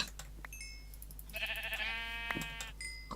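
In a video game, a sheep gives one clear, wavering bleat in the middle, surrounded by faint clicks and short game tones at low volume.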